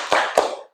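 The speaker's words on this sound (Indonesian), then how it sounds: "mari kita tepuk semangat dulu ya" A class claps hands twice in quick succession, two sharp, close claps with a short ringing tail, as part of a rhythmic spirit clap.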